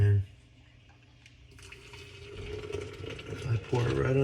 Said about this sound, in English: I pour it right on top of the coffee and just let it all sit together.